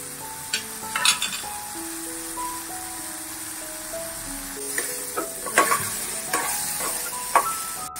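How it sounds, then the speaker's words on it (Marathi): Soybeans roasting in a pan sizzle steadily while a spoon stirs them, with scattered clinks and scrapes against the metal and a soft melodic tone running in the background. "चांगले रोस्ट थोडे करून घ्यायचे, त्यामुळे चव फार चांगली लागते सोयाबीन."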